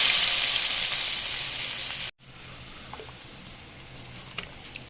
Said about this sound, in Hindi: ये बघारा हम डाल देंगे इस तरह।